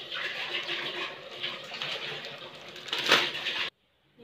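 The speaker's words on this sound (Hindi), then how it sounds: "यहाँ पे मैं पानी गर्म कर रही हूँ, ये रॉड लगा के, ये बिजली से गर्म होता है पानी" Water heated at home with an electric immersion rod gives a steady, close hiss and fizz that holds for about three and a half seconds, swells briefly near the end, then cuts off abruptly into near silence.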